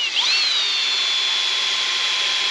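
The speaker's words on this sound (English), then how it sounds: "I just drill them wherever." A cordless drill whirring at high speed as it bores into a radiator flange, its pitch rising briefly then holding a steady whine until it cuts off abruptly.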